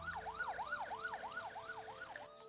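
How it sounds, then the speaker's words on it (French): An ambulance siren wails in a fast repeating up-and-down pattern as it departs for hospital in Sidi Kacem, Morocco, loud and continuous, with a hum of road noise underneath. "l'ambulance part pour l'hôpital le plus proche."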